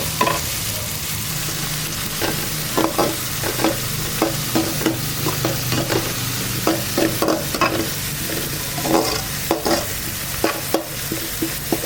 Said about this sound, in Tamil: இது தனியாக கருவேப்பிலை போட்டு கொஞ்சம் போட்டு இது நல்லா வதங்கும்.